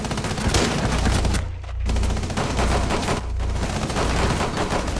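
Sustained automatic gunfire from a Rainbow Six Siege match, a dense rapid fusillade filling the whole stretch with two brief pauses, loud and close, with a teammate hit by friendly fire.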